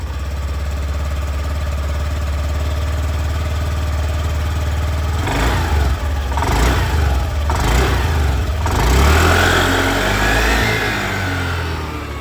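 A Honda Activa 110 scooter's exhaust chugs at a steady idle, then the engine is blipped a few times, rising and falling before easing back down.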